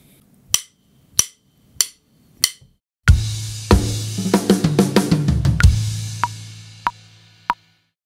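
Drum kit playing the fill from a song: four sharp, evenly spaced hits with silence between, then a loud, dense run of drum and cymbal strikes building into the verse groove, ending on a few spaced accents.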